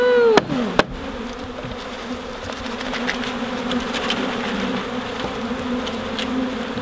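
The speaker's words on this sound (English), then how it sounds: "Introducing new bees to a hive." Package bees buzzing loudly and steadily as they are introduced into a hive, a dense close swarm hum with a couple of sharp knocks from a hive tool near the start.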